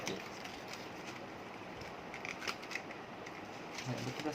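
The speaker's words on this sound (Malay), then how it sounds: "Nak buka plastik koyak ni." Plastic packaging on a Corsair K55 RGB gaming keyboard is torn open, giving soft, close crinkling and ripping sounds with a few sharper snips over a quiet background.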